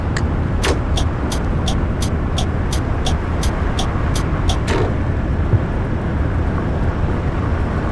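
A VDL Futera coach driving through Fernbus Coach Simulator, a steady loud engine and road drone with a string of regular short ticks, like an indicator, in the first few seconds.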